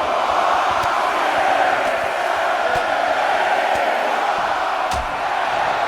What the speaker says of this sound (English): And the crowd exploding louder and louder with each hit.